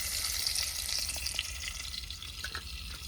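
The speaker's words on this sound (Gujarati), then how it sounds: "દેખો તો મસ્ત તેલ તો નાખી દીધું છે અને હવે નાખશું લસણ. તો ફટાફટ લસણ નાખી દઈએ." Garlic sizzles in hot oil with a loud, bright crackling hiss, steady and close, with a few small pops as it fries.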